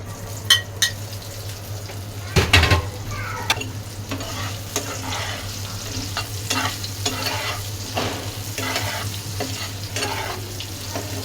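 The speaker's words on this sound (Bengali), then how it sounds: "এই যে ডিমগুলো আমি ভেজে নেব।" Eggs frying in a pan with salt and turmeric give a steady close sizzle throughout, broken by several sharp clinks and scrapes of a utensil stirring against the pan, with a low hum underneath.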